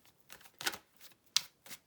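Tarot cards are shuffled in a few quick papery riffles and taps, close and fairly quiet, with short bursts separated by brief gaps.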